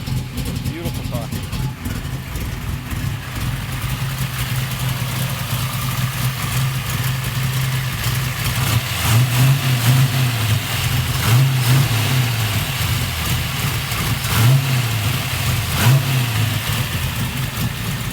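A deep V8 engine in a Chevrolet Nova SS, a 377 motor with 465hp, idles with a low rumble, then revs up in several surges; a voice talks over parts of it.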